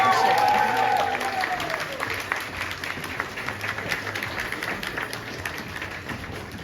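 An audience at an eleventh-grade last-bell ceremony at School No. 10 in Ukhta, Komi Republic, gives continuous applause. It is strongest at the start, where a brief voice-like tone sits on top, then carries on steadily and slowly fades.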